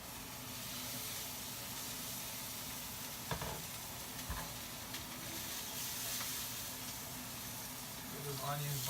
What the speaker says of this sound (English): get those onions nicely seared right there